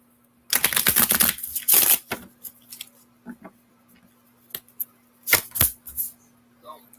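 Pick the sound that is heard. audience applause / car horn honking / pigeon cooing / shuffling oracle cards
shuffling oracle cards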